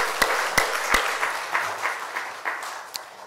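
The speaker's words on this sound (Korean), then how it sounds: "박수로 축하해 주시기 바랍니다." Church congregation applauding during a Sunday worship service, welcoming elderly guests and neighbors, with a few sharp claps standing out over a dense, moderately loud patter of hands that slowly thins.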